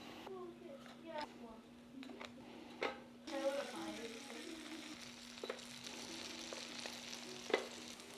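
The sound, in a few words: butter frying in a pan for Spam breakfast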